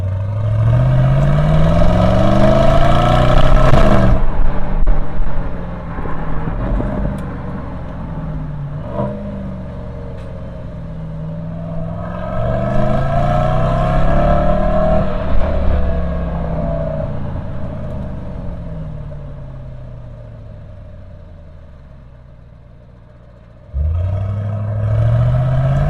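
Exhaust of a 2021 Mercedes-AMG GLE 63 S Coupe rumbling and revving loudly, with rising and falling engine sweeps, a brief drop near the end, then a fresh surge; no talking.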